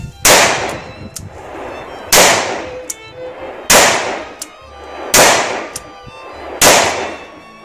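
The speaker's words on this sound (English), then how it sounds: "just go see if you can fire 5 rounds" Five loud gunshots fired one at a time in single action during a 2017 Montana visit, evenly spaced about a second and a half apart, each a sharp crack with a short ringing decay and no talk between.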